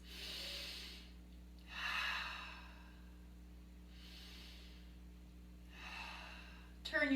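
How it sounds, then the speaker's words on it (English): Slow deep breathing during a seated chair Pilates exercise, several soft inhale and exhale cycles close up and faint over a steady low hum. "Take some deep breaths."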